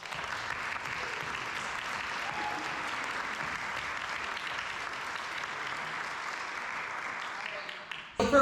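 A school board candidate forum audience claps in a steady, even wash of applause lasting about eight seconds, at moderate distance, then it cuts off with a brief thump at the end.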